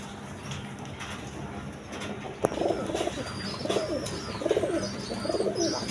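A pair of domestic pigeons of the Gola breed coo repeatedly in low, throaty rolling phrases, fairly close and moderately loud, against a steady background hum with faint chirps and a single sharp knock partway through.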